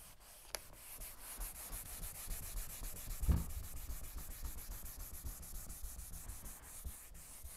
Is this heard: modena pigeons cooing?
no